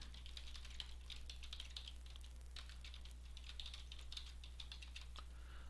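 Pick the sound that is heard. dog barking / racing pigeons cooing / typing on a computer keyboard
typing on a computer keyboard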